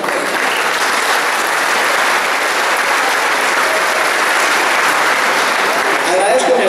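A dense audience applause at a government report event fills the space, steady loud clapping sustained evenly from start to end.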